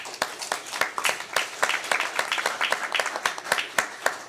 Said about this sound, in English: I'd like to give a round of applause for our sewer department